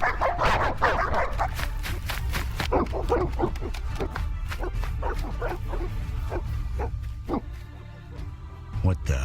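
Evil dogs bark and yelp in the video game The Witcher, with rapid, loud, overlapping barks continuing throughout alongside game voices.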